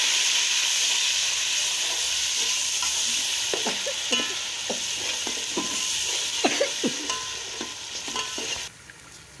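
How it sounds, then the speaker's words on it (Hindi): Ginger, garlic and green chili paste fries with browned onions for a chicken curry, giving a steady close sizzle with scattered sharp spatter pops and occasional stirring scrapes, then a brief drop near the end. "हमने अदरक लहसुन और हरी मिर्च का पेस्ट इसमें शामिल किया था और थोड़ी देर हमने इसको भूना है"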